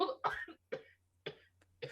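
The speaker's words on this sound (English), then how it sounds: "That smoker's cough is getting her." Several short, harsh coughing bursts separated by brief pauses, close by, with a low steady hum underneath.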